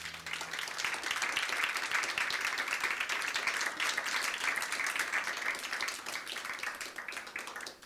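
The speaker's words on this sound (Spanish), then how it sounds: "¿Alguien le podrá dar un aplauso fuerte al Señor?" A church congregation claps loudly, a dense continuous roar of many hands lasting throughout, steady and full without pauses or talk.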